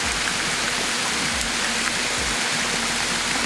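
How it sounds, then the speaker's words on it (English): A Caribbean waterfall gives a steady, dense rushing roar that stays even throughout with no voices. "probably you could just be watching the waterfall."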